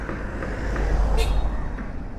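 A car approaches and passes close by in Fort Cochin, India, its engine and road noise swelling then fading, with a brief hiss as it goes past.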